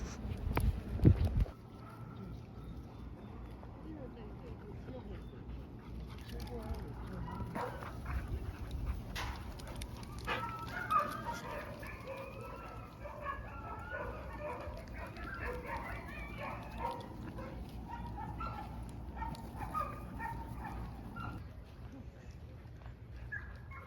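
Dogs bark, yip and whimper in short scattered bursts, fairly faint and distant, with people talking quietly now and then.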